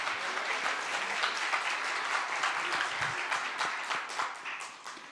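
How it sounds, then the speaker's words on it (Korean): A church congregation claps during a Sunday morning worship service, a dense sustained roar of applause from many hands that fills the room and fades slightly toward the end. "우리 하나님께 영광의 박수 올리겠습니다"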